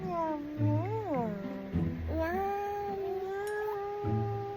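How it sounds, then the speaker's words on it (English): A cat meows repeatedly with long, rising and falling drawn-out cries, close and clear, while a child and an adult talk nearby. "What does the cat say? Meow, meow."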